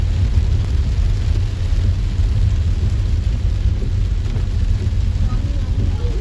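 Heavy rain pours down in a dense, unbroken roar that stays loud and steady throughout, with no voices over it.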